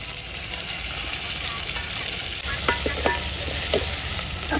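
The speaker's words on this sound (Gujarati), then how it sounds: "એટલે હવે મીઠો લીમડો અને પેલું લસણ વાટેલું અને આપણે ટામેટાં છે તે નાખી દીધા છે" Curry leaves, crushed garlic and tomatoes hit hot mustard-seed oil for a tempering, giving a loud, steady sizzle with scattered stirring scrapes and pops, close by and with no talk.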